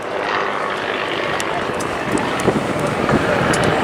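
An Extreme Air XA41 aerobatic propeller aircraft performing at an airshow, its engine giving a loud, continuous roaring drone with a steady wash of air noise, sounding close and sustained while a commentator speaks over it.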